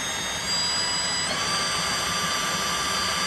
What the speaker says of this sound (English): we've got the drill, goes in the bottom of the distributor, spins it up